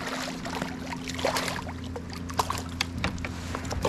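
A kayak paddled on a river after catfish fishing: soft paddle dips and water trickles, with a few light knocks against the hull, close by and fairly quiet.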